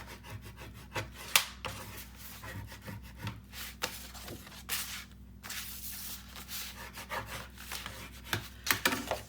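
Paper on a mini album page is burnished with a tool, giving close, continuous scraping and rubbing strokes of varying pressure with occasional sharper taps.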